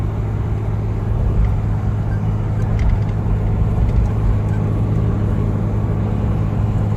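Toyota HJ61 engine droning steadily while driving on a motorway in Pakistan, a continuous low rumble with constant road and cabin noise throughout, no pauses.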